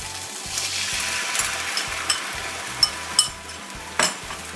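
Pork and celery stir fry sizzles steadily in a hot pan after sauce is added, with a constant frying hiss broken by several sharp scraping and clinking stirs near the end.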